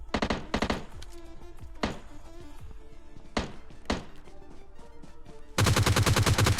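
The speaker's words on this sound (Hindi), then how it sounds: "वो बंदा के गन साउंड शायद इन्हीं वाले घरों की साइड से आ रहे होते हैं।" Gunfire in the video game PUBG Lite: scattered single shots and short bursts, then a loud sustained burst of rapid automatic fire at the end, with no talk.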